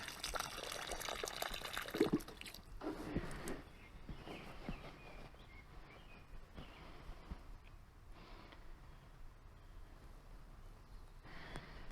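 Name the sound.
pouring water onto a newly planted rose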